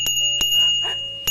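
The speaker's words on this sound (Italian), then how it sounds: "campanello per segnalazioni acustiche" A bicycle bell rings sharply three times, bright metallic dings with short ringing tails, close and loud, separated by quiet gaps with faint background noise.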